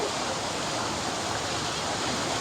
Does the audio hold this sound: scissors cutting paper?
no